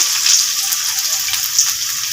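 Chopped garlic dropped into hot oil with a pinch of black cumin in a wok, giving a steady, bright sizzle with small crackling bursts throughout, near and without talk.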